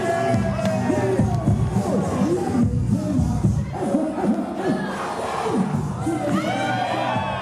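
A crowd cheers and claps for a children's dance group called Les Kids, with excited shouts, whoops and children's voices layered into a steady, lively din throughout.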